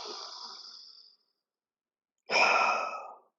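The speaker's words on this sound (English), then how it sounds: "Big breaths in." Breathing during a live mobility class: a long airy breath, a pause of silence, then a louder deep breath, heard up close without talk.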